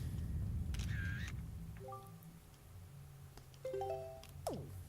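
A camera shutter clicks while the hero takes a selfie in The Legend of Zelda: The Wind Waker HD, with brief chiming game tones and soft background music around it, quiet overall.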